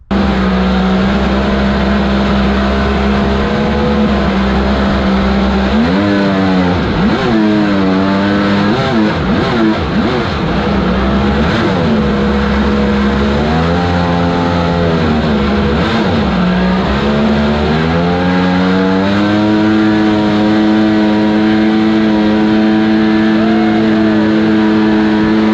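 A small aluminum mini jet boat fitted with an 1100 engine swap runs loud and close at a racing track, holding a steady drone with repeated rising and falling revs.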